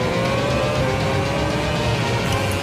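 A race car brakes hard for a second-gear right-hander at the Singapore street circuit, its engine a loud, continuous roar held close for the whole moment.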